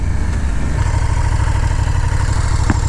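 KTM motorcycle engine held at high revs on launch control, a steady loud buzzing drone that barely wavers for the whole stretch, recorded close up with no talking.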